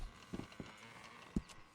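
A horse in the video game Red Dead Redemption 2 takes a few slow hoof steps, soft clip-clops spaced irregularly over a quiet background, with one sharper strike near the end.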